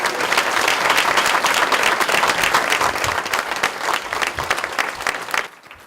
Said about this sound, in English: Give the educators of this county a round of applause.